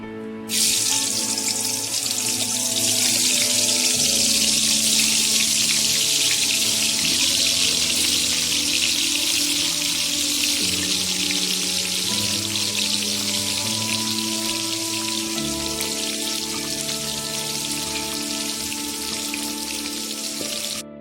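Pointed gourd pieces fry in hot refined oil for an Odia potala kurma, giving a loud, steady hiss and crackle that runs unbroken for the whole stretch, with faint tonal background sounds beneath.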